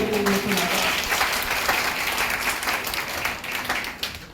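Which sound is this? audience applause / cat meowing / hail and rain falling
audience applause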